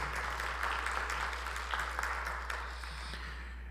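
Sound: applause for a guest at a seminar

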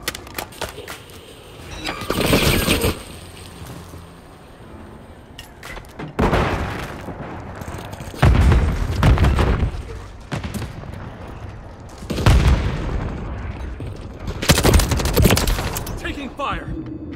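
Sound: gunfire in Call of Duty Modern Warfare III video game

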